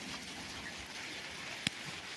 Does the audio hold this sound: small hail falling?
yes